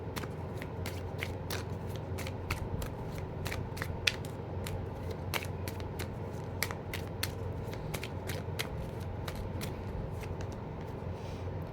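Tarot cards shuffled steadily by hand for a reading, giving a rapid run of crisp, papery riffles and slaps at close range, with no voice over them.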